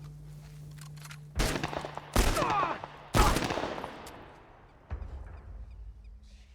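Gunfire in the video game The Last of Us: four loud, sharp shots spaced about a second apart, each ringing out with a long echoing decay.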